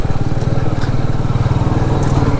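A Royal Enfield Meteor 350 single-cylinder motorcycle pulls away in first gear, its loud, close engine thumping in a steady, even pulse throughout.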